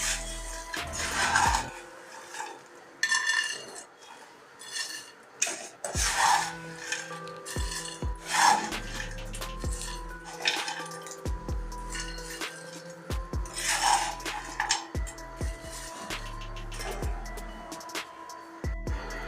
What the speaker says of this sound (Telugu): ఇప్పుడు ఒక ప్లేట్లో వేసుకుందాము.